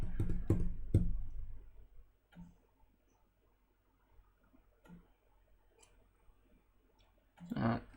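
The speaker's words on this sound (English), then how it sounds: "The hard drive's clicking away." An Amiga computer's hard drive clicking in short irregular ticks, a cluster of close clicks at first, then sparse quiet taps, ending with a brief louder burst of activity.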